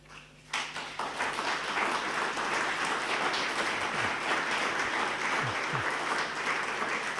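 Sustained applause from an Alpini association audience in Cison di Valmarino, dense clapping that starts abruptly and keeps a steady, full level throughout.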